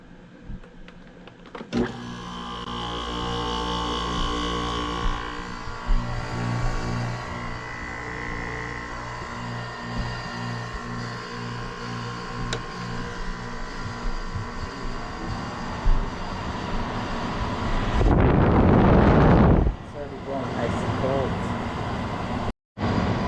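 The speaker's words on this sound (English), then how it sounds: "Alright, here goes the compressor." A 2012 Frigidaire 5,000 BTU window air conditioner hums steadily with its Welling fan motor, then the compressor kicks on with a sudden loud surge before settling, with a person talking nearby.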